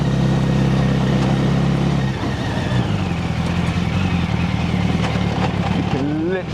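A kit car powered by a Yamaha R1 motorcycle engine runs loudly from inside the cabin on a passenger ride, the engine note shifting as it pulls away, with people talking over it.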